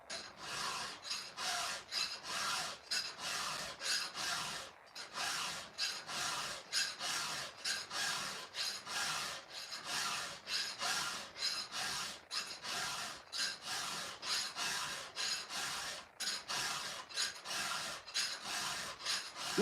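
A chainsaw chain is hand-filed while clamped in a stump vise: steady, rhythmic rasping strokes, close and fairly loud, repeating roughly every half second with brief pauses between runs of strokes.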